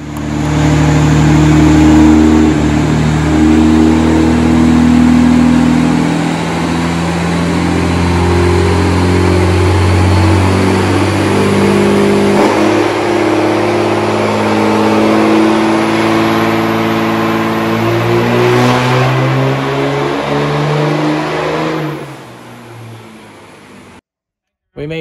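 A 5.9L Cummins diesel truck fitted with a DPS turbo revs hard on a dyno, a loud, sustained engine roar with climbing harmonics that winds up and holds before cutting off abruptly near the end.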